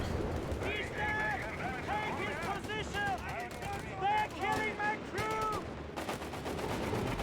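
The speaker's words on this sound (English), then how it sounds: "Got the commanders over the Johnson light machine guns, ripping through the machine gun crew here." Bursts of light machine gun fire from Johnson LMGs in Company of Heroes 3 rattle through a busy battle soundscape, with repeated sharp rapid volleys and scattered shots.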